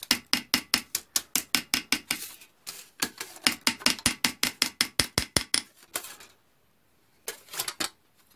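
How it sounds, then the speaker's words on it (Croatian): A hammer strikes a metal sheet to flatten it, a rapid series of sharp, close metallic blows in quick bursts with short pauses between runs. "kad ravnate s druge strane ovim čekićem"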